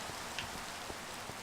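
Rain falls in a video game as a soft, steady, even hiss with tiny scattered droplet ticks, faint and continuous throughout.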